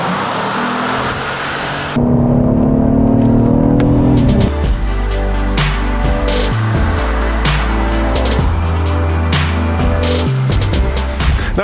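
Engine of a 2018 Acura TLX heard from inside the cabin with augmented engine note, a loud steady hum that swells into hard revving acceleration with rising and falling pitch as gears change, no talking.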